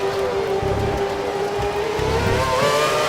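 An F1 car in the video game F1 2013 drives the Hungary circuit on Pirelli tyres, its engine a loud continuous high-pitched whine that shifts in pitch as it accelerates through the corners.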